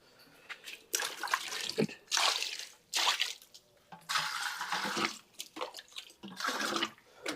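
Water is poured in several separate splashing bursts, each a second or so long, close by with short pauses between them.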